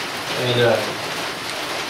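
Heavy rain pours outside a portable building in a steady, dense hiss. A voice briefly starts to speak over it.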